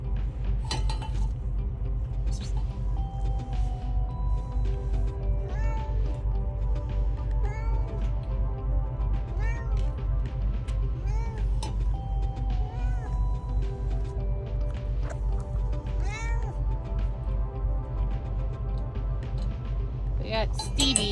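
Several short meows from a cat, kept inside a semi-truck cab, repeat intermittently over a steady low engine rumble, with people talking now and then nearby.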